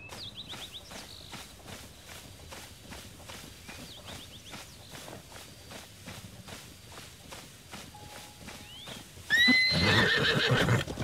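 A horse in Zelda: Tears of the Kingdom trots with steady, evenly spaced hoof clops and gives a few brief whinnies, then a louder, fuller neigh bursts out near the end.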